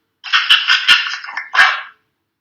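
A husky barks and yips in a quick run of four or five sharp, close calls with a brief growly tail, loud and alone against silence.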